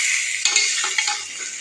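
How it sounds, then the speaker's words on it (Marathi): Cauliflower is stirred into hot spiced oil in a pan, giving a loud steady sizzle with a few clinks and scrapes of the spoon against the metal. "फ्लावर टाकून मिक्स करून घेऊया"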